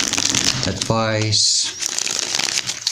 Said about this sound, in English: let's shuffle this other deck. Let's shuffle it 3 times